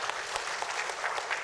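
An audience at a community fellowship gathering applauds, producing a dense, even patter of many hands clapping. The sound continues steadily at moderate loudness throughout, with no voices rising above it.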